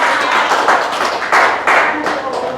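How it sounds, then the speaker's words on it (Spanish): A church congregation claps hands in praise, a dense run of sharp, close claps in uneven bursts, heard under an ongoing Spanish-speaking voice. "Dale una ofrenda de palmas a Él, porque Él es el Rey."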